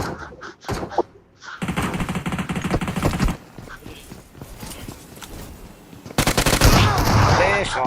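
Shotgun fire in the BGMI mobile battle royale game, a dense run of loud repeated gunshots with bursts and a louder close volley near the end, with game sound throughout.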